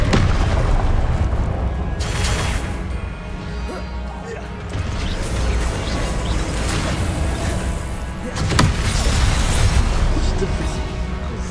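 Fiery Confringo spell blasts from Hogwarts Legacy gameplay boom repeatedly over a dense, rumbling game soundscape, with a sharp burst near the two-second mark and another around eight seconds, loud and close throughout.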